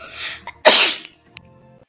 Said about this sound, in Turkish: Hapşırdım arkadaşlar